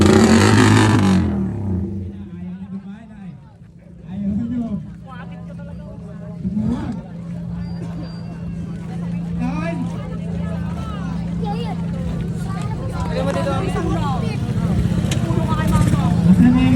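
Motorcycles rolling past at a 2024 motor show in Alaminos City, Pangasinan, as riders line up; a steady engine drone with a few louder revs, under crowd noise and talk.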